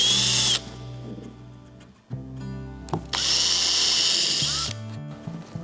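Close, loud bursts from a power drill driving screws into a water tank flange inside a camper van build, with the motor whining in short runs and brief pauses and clicks between them.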